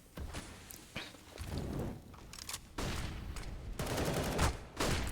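Gunfire from a competitive shooter video game match between esports teams, with bursts of shots and thumps recurring in clusters throughout, fairly loud and alone without talk.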